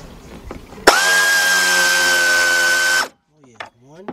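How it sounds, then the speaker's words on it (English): A quarter-inch drive air ratchet with a deep 10 mm socket runs in one loud, steady burst of about two seconds, working a bolt during a 3.9-litre engine replacement on a 1999 Dodge Dakota Sport, with brief quiet talk before and after. "I got my 1/4 inch drive deep 10 millimeter socket with my 1/4 inch drive air ratchet."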